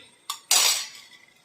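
Lid of a cooking pot being handled, a short metallic clink followed by a louder rattling clatter that quickly fades, close by and with no voices.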